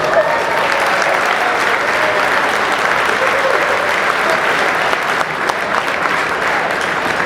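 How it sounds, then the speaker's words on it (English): An audience at a charity event applauds continuously, a full, even roar of many hands clapping that stays steady throughout without talk on top. "So let's give them a round of applause"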